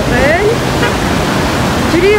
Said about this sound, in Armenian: Ջրի աղմուկը շատ է, չգիտեմ ձայնս ինչպես կլսվի